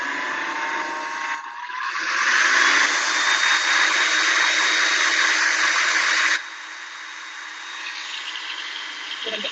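Kitchen blender mixing a green goddess dressing, a loud steady motor whir that ramps up, holds high for several seconds, then drops to a lower hum before stopping.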